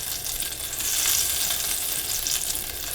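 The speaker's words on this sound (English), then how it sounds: "Nice and sizzling, nice and hot" Butter sizzles steadily in a hot frying pan for chicken piccata, a dense, close crackling hiss that holds even throughout with no voices over it.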